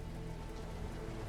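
Steady rain falls in a video game set on a wartime trail, a dense even patter of drops heard close and alone at low level for a brief moment.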